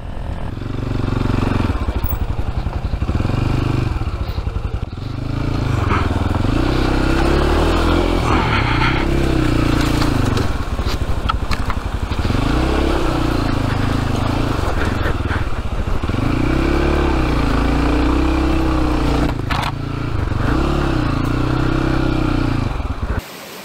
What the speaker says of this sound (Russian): Это Racer XVR. Лично мне этот мотоцикл очень нравится